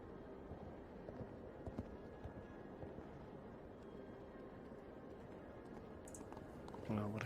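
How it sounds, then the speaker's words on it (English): A show-jumping gelding's hooves thud softly in an indoor arena at a World Cup jumping competition, faint irregular footfalls beneath steady crowd murmur and arena ambience, with a sharper burst of noise at the end. "This horse is Clemens Delonde, it's a gelding by Comme il faut"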